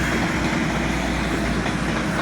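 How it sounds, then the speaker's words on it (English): Dual fuel LNG powered passenger train 18112 departing York station on a Grand Central service, a loud continuous rumble and clatter of rail noise close by throughout. "That train is leaving"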